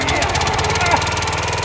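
A small engine runs with the choke on and the throttle at half, making a loud, close, rapid mechanical chugging with an even rhythm throughout the brief moment.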